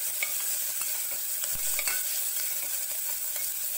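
Onions sauté in a pan with green chillies nearby for a paneer pulao, giving a steady soft sizzle with occasional light scrapes and one low thump from stirring.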